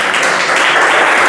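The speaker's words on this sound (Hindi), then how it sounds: "वेरी गुड, इनके लिए ताली बजा दीजिए।" Audience applause at a motivational talk in a hall, a short burst of dense, loud clapping from many hands lasting just over a second.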